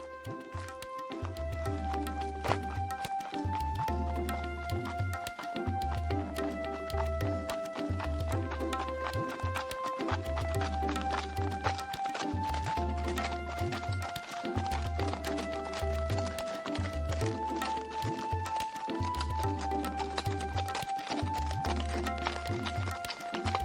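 Cartoon horse carrying its rider off at a steady run, with rhythmic hoof clip-clops repeating throughout under a continuous musical score.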